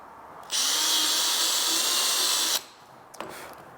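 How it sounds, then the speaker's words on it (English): A power drill whirs loudly and steadily for about two seconds as it drills through plastic for a Vespa GTS mudflap, then stops, followed by a faint clatter. "You can see it doesn't take much effort to drill through this plastic."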